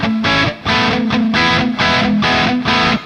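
Heavily distorted chords on an Enya Inspire electric guitar strum in short bursts, about six loud chunks separated by brief gaps, gritty and buzzing.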